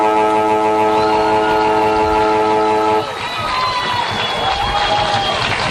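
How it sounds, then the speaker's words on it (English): A loud, sustained horn-like final siren blares over a roaring crowd at a 2018 Bendigo football grand final, then cuts off while the crowd noise carries on loudly. "There it is, the final siren"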